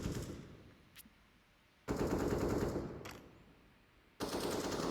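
Automatic rifle fire in Counter-Strike on the Dust2 map during a Sprout vs Endpoint match, loud sustained bursts sprayed through smoke, broken by short pauses and a couple of sharp single cracks.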